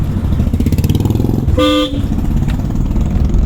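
A car horn gives one short, clear honk in traffic during a driving lesson, over a steady engine drone nearby.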